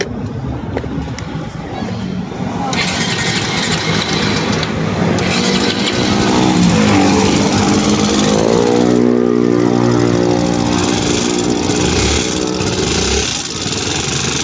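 A Kawasaki NS160 FI motorcycle engine runs steadily nearby, rising in a rev and then holding a rough, loud idle, with faint voices in the background.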